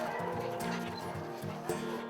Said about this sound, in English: and, of course, dogs.